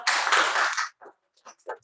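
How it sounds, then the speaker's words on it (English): A round of applause at a hybrid meeting: a short, dense burst of clapping hands that cuts off after about a second, followed by a few scattered faint taps. "a huge round of applause for"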